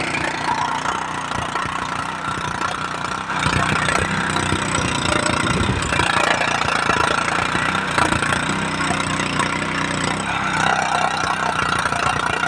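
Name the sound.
concrete vibrator engine running at a cell tower site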